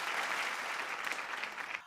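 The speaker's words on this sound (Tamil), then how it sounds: "அவருக்கு ஒரு கைத்தட்டலாம் ஜோரா" A hall audience at a Pongal special on Vijay TV gives a speaker a dense, steady round of applause, loud and continuous for about two seconds before it drops off abruptly, with no talking.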